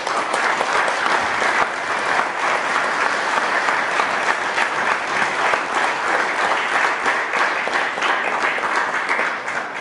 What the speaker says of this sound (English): if we spend too much time with applause, there are fewer people that will get a chance to speak